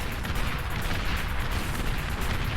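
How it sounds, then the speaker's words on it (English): Cannon-armed thug units in the real-time strategy game Beyond All Reason trade fire in a dense, steady roar of overlapping blasts and rumbling impacts, a constant battle wash with no clear gaps. "The thugs with cannons for arms blasting at each other"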